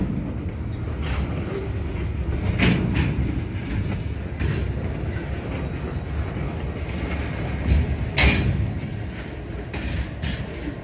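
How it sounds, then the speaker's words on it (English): Union Pacific 2002 Heritage locomotive passing in Kansas, a loud continuous rumble of rolling rail cars with rhythmic clanks and rattles, buffeted by wind noise on the microphone. "Have not seen this locomotive ever."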